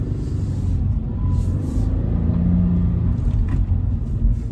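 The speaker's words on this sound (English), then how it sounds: "So this one definitely has some noise associated with a sportier vehicle." A 2020 Toyota 86GT sports car with a 6-speed manual, heard from inside while driving slowly in a parking lot: a loud, steady low engine rumble with a slight rise partway through.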